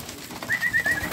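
A single male pigeon coos close by in a short rolling phrase, with a few faint background sounds around it.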